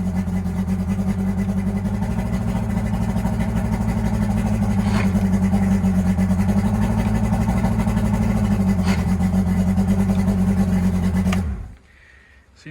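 A boat engine runs on land during a restoration, idling steady and close at a slightly high idle with a couple of light blips, then cuts off abruptly near the end.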